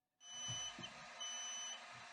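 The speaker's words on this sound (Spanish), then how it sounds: "esa es la alarma que está sonando" An automatic 15-egg incubator sounds its temperature alarm, a steady high-pitched electronic beep in two sustained pulses, loud and close with no talking.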